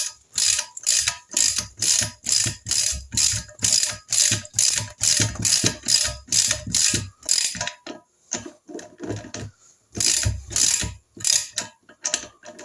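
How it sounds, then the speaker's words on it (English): A hand ratchet tightens the big-end nuts on the conrods of a Triumph Trident T160 engine, giving loud, close, rapid clicking in regular bursts of strokes. The bursts keep a steady rhythm, then the strokes grow shorter and more spaced toward the end, with no talk. "I'm going to start them off just with a normal ratchet, just to get them down."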